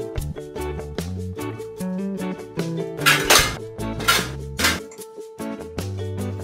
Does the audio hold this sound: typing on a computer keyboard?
no